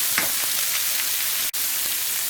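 Chopped onions sizzle steadily in a hot pan on the stove, a soft continuous frying hiss with faint stirring scrapes and one sharp click partway through, no talking.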